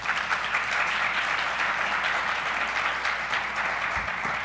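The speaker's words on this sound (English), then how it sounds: "give her a round of applause" An audience in a room applauds for a mentor exchange participant, a steady, even wash of many hands clapping throughout at moderate loudness with no pause.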